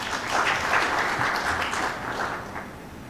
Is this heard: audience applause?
yes